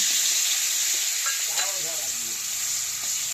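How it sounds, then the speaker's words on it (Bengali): A rohu fish head rubbed with salt and turmeric fries in hot oil, giving a loud, steady, close sizzle that crackles without a break. "লবণ হলুদ মাখানো মাছের মাথাটা আমি দিয়ে দিলাম।"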